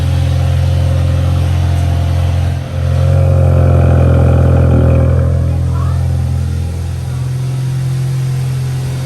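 A Volkswagen Passat 1.8 TSI with a CTS cold air intake, its engine running loud and close, idling with a brief rise in revs and a dip, while people talk faintly over it.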